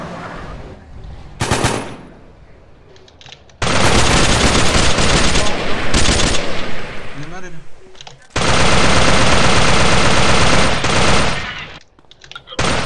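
Loud sustained machine-gun fire in DayZ rattles in long dense bursts, separated by quieter gaps with a few single shots; voices speak in the pauses.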